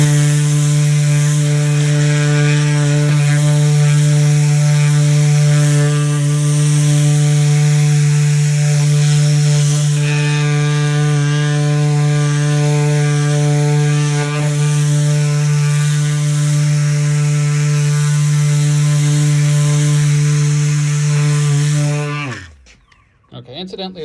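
Power sander with a coarse media pad grinding across a surface, a loud steady motor whine with strong buzzing harmonics running continuously, close up, then spinning down abruptly at the end.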